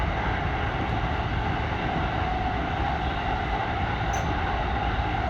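Steady rumble of a train slowing as it approaches the Tama River bridge near Kawasaki, Tokyo, a continuous low drone with a brief high squeal near the end.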